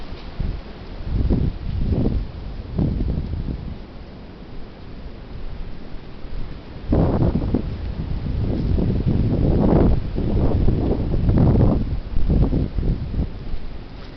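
Heavy wind buffets a forest trail in gusting waves, a dense roar that swells and falls, with rustling mixed in and no talk.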